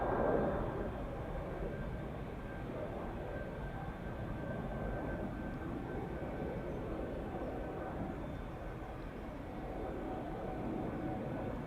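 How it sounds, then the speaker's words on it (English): Ryanair airliner departing Schiphol for Dublin, a steady broad jet roar held at an even level throughout, distant and unbroken with no clear peaks. "Ryanair to Dublin. Will it take off? I think it will."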